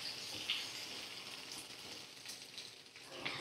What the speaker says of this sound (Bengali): এইভাবে ডুমো ডুমো করে কেটে রাখা আলু আর ঝিঙে ভালো করে আমি এবারে ভাজা করে নেব।